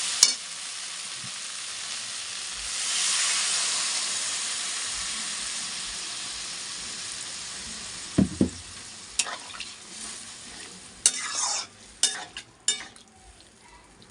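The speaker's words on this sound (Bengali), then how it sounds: "এখন আমি ঝোলটা দিয়ে দিচ্ছি" Spiced Bengali curry sizzles and hisses in a pan as gravy is poured in, a strong steamy burst early on, then scattered sharp clinks and scrapes of stirring near the end, with no talk.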